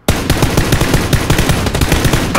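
Sustained machine-gun fire in a first-person shooter game, loud and close, a rapid unbroken burst of automatic shots that starts abruptly and runs to the end.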